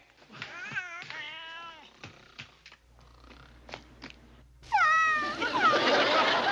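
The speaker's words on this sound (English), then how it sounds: "Why, it's a pussy cat. It must have just wandered onto the base." A cat on a military base meows repeatedly in drawn-out, wailing cries much like a crying baby, with several separate calls and a louder, rougher yowl at the end.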